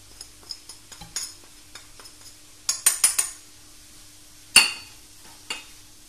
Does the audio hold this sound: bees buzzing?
no